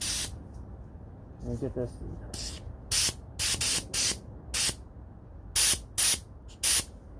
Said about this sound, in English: we're going to do the same thing, and we're going to dust these. Basically a dust coat